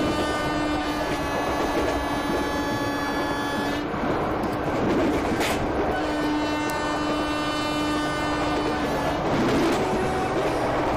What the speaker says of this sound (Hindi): ये तीनों हॉर्न में से कौन सा हॉर्न आपको ज़्यादा अच्छा लग रहा है